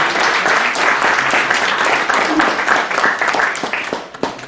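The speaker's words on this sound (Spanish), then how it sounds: "Un fuerte aplauso otra vez, por favor" Audience applause at a book presentation on Mexican constitutional law, a steady dense wash of many hands clapping together for about four seconds before tapering off at the end.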